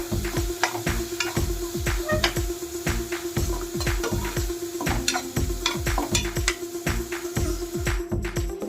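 Onions frying in a pan with salt and turmeric, stirred with a spoon: a continuous sizzle broken by quick, regular scraping strokes against the pan, close and clear with no talking.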